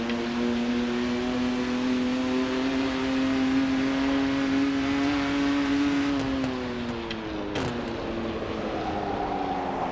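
A racing car engine in the Rennsport video game holds a high, steady revving tone that dips and shifts as gears change near the end, loud and alone without talk.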